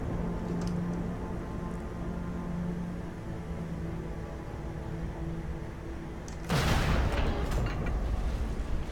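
Fel mortar fire in the World of Warcraft: Legion video game, set in a forest during a Legion attack: a sudden heavy blast rolls into a sustained rumbling barrage over a steady ambient bed, with no talk.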